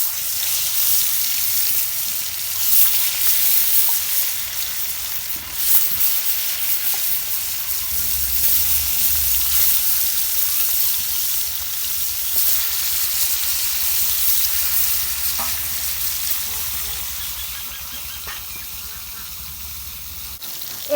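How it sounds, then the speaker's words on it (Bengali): Pangas fish fry in hot mustard oil in a heated kadai, a continuous bright sizzling hiss that swells and settles over about twenty seconds, close by with no voices over it. "তেল গরম হয়েছে, এখন আমি মাছ কয়টা ভাইজে নেব।"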